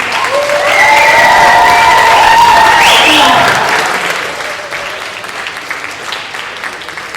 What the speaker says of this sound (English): Let's have a round of applause for all of the presidential candidates.